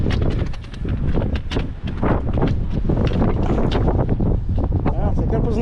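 Strong southwest wind buffets the microphone on a mountain ridge at Donačka gora, a loud, gusty roar of rumbling bursts that fills the whole clip.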